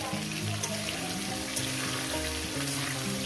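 Potato and raw banana pieces frying with turmeric in a pan, a steady close sizzle and hiss with light stirring, no talk.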